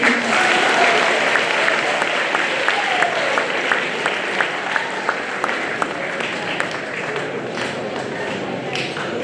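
Sustained, dense applause fills a school hall as an audience claps for student presenters at a youth philanthropy finals, loud and steady throughout, with sharper individual claps standing out in the mix.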